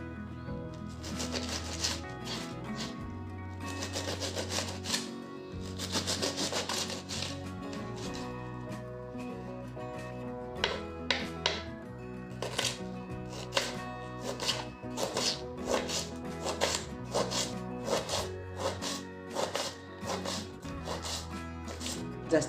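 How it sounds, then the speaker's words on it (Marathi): Cabbage is chopped finely with a knife on a board, with quick irregular clicking cuts coming in bursts, fairly close and moderately loud, over a low steady background hum. "अशा रीतीने आपण सर्व पत्ताकोबी कापून घेऊ"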